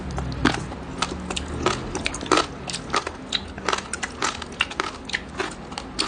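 Sharp, brittle crunching and crackling from close bites and chewing of crunchy roast pork skin (lechon), repeated in irregular bursts, fairly quiet with no speech.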